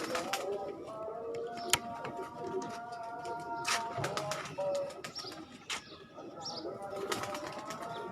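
Pigeons on a Pakistani pigeon fancier's rooftop coo and flap their wings at moderate distance, with scattered chirps and sharp bursts of wingbeats over steady background noise and occasional voices.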